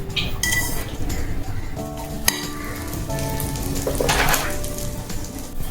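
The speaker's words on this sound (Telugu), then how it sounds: "నూనె వేడయ్యాక మనం హోల్ గరం మసాలా వేసుకోవాలి." Whole garam masala crackles and sizzles in hot oil inside a pressure cooker, a loud, close, continuous frying hiss with a single sharp metallic clink and light stirring sounds.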